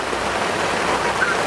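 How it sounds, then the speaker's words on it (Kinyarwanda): Rain falls steadily in a brief, even burst of close, dense hiss with no distinct drops standing out. "imvura irimo kugwa"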